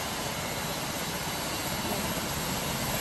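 A steady, loud airplane engine drone in flight in the Roblox flight game PTFS, a dense unbroken roar with no voices.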